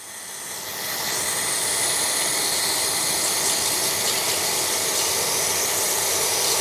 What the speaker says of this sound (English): I'm just going to take my carb cleaner and I'm going to fill this up.